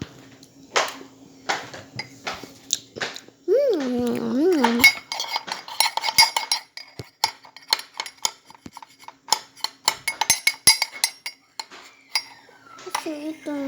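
Utensils scrape and clink against a dish as cookies are mixed, giving a busy run of metallic taps and scrapes, with a cat's meow and brief speech breaking in.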